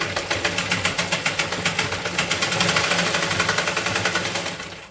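A sewing machine stitches cloth for a tote bag made from waste fabric, its rapid even needle clatter running steadily and loudly up close before slowing to a stop.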